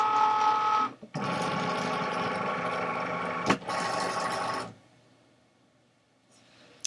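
A Cricut Maker cutting machine loads and scores material with a close, steady mechanical whir in two long bursts separated by a brief pause, then falls quiet.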